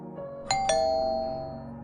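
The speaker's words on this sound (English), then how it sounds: "the doorbell rang" A doorbell rings once with a two-note ding-dong chime, and the second tone lingers and fades in a quiet room.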